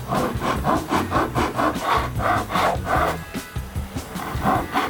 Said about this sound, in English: I'm going to take a flat bastard file and use it to carve them in